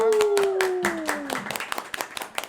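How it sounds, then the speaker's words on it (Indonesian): A group claps briefly for a correct answer in an elementary-school quiz contest, a quick run of sharp hand claps that thins out over a couple of seconds. "Ini berarti jawaban benar, kita tepuk tangan dulu semua."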